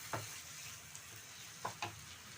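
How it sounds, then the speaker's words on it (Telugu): Chutney frying in hot oil in a pan gives a soft, faint sizzle, broken by a few short scraping stirs of a spoon. Nobody speaks. "బాగా చట్నీ ఆయిల్ విడిచి బయటకు వచ్చేదాకా మనం వేయించుకుందాం"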